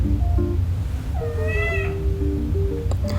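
A cat meows several times, drawn-out and rising then falling, with a short chirp near the end over a low steady background hum.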